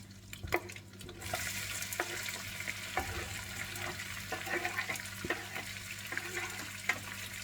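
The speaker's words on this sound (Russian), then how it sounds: "Пока обжаривается лук," Quiet sizzling of onions frying in oil in a pan, with scattered clicks and scraping taps of stirring, a low steady hum underneath.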